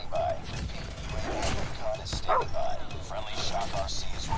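A dog barks and yips in a Call of Duty Mobile match, short yelps scattered through dense game noise, gunfire and steady player chatter over the top.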